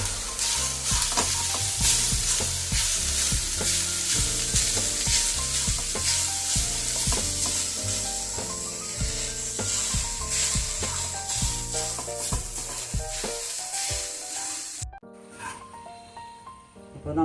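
Grated coconut and ginger sizzle in an oiled pan with steady frying crackle and repeated scraping strokes, then the sound drops away abruptly near the end.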